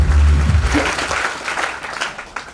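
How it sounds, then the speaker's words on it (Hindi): Applause from a seated group or class welcoming a new member, loud at first and tapering into scattered claps and murmur. "एक बार संदीप के लिए तालियां करना"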